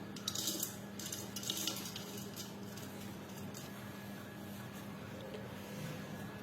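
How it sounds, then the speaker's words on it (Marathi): Fried onion for a Pahadi biryani gravy is spooned into a steel mixer jar, giving a few quick metallic clinks and scrapes at the start, then a steady low background hum. "आता ग्रेव्ही बनवण्यासाठी आपण मिक्सरच्या भांड्यामध्ये आपण तळलेला कांदा टाकून घेऊया."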